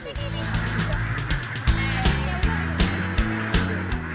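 Ducks on a duck farm honk and quack in a loud, dense flock, calls overlapping constantly with repeated sharp bursts throughout, close and busy.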